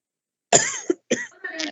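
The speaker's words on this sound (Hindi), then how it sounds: "सबको खांसी हो गया है क्या जी?" A few short, close coughs in quick succession, with a brief pause between bursts, in an otherwise quiet room.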